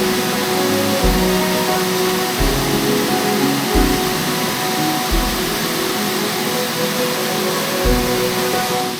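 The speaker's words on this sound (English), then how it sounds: "I could already see the waterfall" Cedar Mill Falls in Portland on a rainy day, a steady loud broadband roar of falling water that fills the scene and stays constant throughout, with faint low thumps underneath and no talking.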